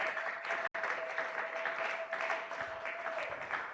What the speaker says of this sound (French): Est-ce que tu peux encore m'encourager en acclamant très fort pour la gloire de Jésus?